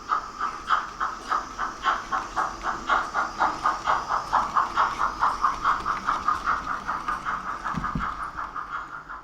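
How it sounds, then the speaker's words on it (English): Small Märklin model steam locomotive chuffing in a steady rhythmic puff that gradually quickens as the train gains speed, with faint hiss and a brief low clunk near the end. "the P8 and her curious train slowly gains speed again"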